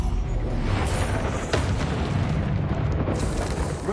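A Confringo blasting spell explodes in the Hogwarts Legacy video game, a loud, dense burst of rumbling blast noise that fills the whole clip, with brief crackling flares.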